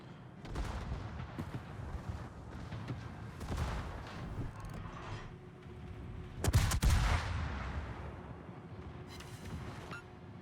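Naval 4-inch guns fire aboard a County class heavy cruiser in World of Warships, a steady rumble of repeated gun reports with one sharper, louder burst midway, continuous battle noise throughout.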